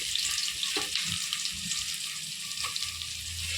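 Onions and carrot frying in a kadai, a steady bright sizzle with a few louder stirring scrapes, close and continuous, no voices.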